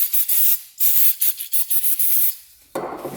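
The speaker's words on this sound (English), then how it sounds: "Wipe off this case half here." A rag is rubbed in quick repeated strokes over a quad engine case half wet with brake cleaner, giving close, bright, scratchy swishes in short bursts, followed by a duller wiping sound.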